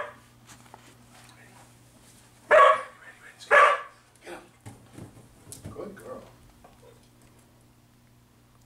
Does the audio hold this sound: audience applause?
no